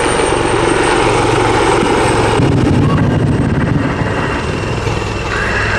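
A Wildcat military helicopter thunders loudly and close during an airshow demonstration, its rotor chopping and engine whining steadily, then easing slightly as it moves off.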